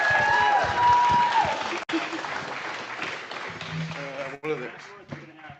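A conference audience at a startup investment summit applauds and cheers for a speaker, loud sustained clapping with shouts filling the room, a presenter's voice heard over it as the applause carries on.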